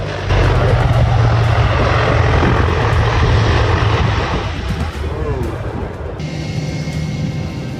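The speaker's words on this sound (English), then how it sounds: "A C-123K narrowly avoids disaster at the Geneseo Air Show in New York" A C-123K transport aircraft at the Geneseo Air Show in New York roars loudly and steadily as its engines run, a dense rumbling drone that eases slightly toward the end while voices talk over it.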